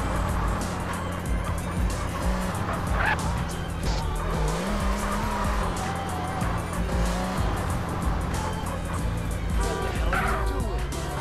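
A car in a video game drives fast toward a ramp, its engine droning steadily while tires squeal and skid in bursts, loud and continuous, with no talking over it.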